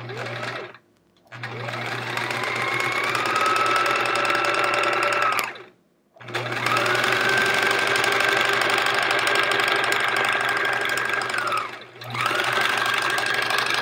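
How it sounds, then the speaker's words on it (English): Sewing machine stitching quilt pieces at full speed, a loud, steady whirring drone with a rising whine, running in long bursts with two short pauses between runs. "We're flooring it tonight on the sewing machine."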